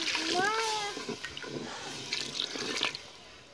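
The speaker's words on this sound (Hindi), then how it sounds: "अब हम इनके अंदर पानी डालेंगे" Water is poured into a chicken karahi cooking in a kitchen, giving a soft, quiet splashing and trickling. A brief voice-like tone comes early, then faint liquid sounds continue.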